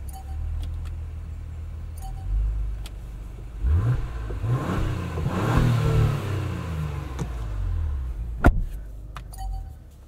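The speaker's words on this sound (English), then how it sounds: "show you guys the exhaust." A 2024 Acura TLX Type S engine revs up twice, rising and falling through the exhaust, with some light jangling and a sharp click near the end.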